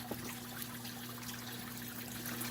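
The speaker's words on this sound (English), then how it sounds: "it's flowing so vigorously it's sort of splashing over the backside of that rock" Water from a pump-fed garden waterfall splashes vigorously over the back of a rock, a faint, steady trickling wash with a constant low electrical hum beneath it.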